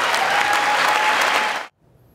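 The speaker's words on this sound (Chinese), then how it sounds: "你不要以为听到掌声很多人跟他鼓掌啊" Loud, dense audience applause in the chamber during Biden's State of the Union address, sustained clapping that cuts off abruptly near the end, leaving near silence.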